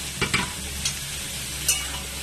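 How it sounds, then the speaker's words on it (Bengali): Boiled banana flower being stir-fried in a pan for mochar ghanto, a Bengali dish, makes a steady sizzle broken by a few scraping stirs, close and alone without talk. "ভালো করে কষিয়ে নেব"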